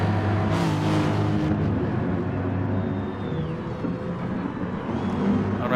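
Race car engines drone steadily at Spa in a racing video game, with a Mustang among the cars, holding a continuous loud roar with slight pitch shifts as the cars run close together.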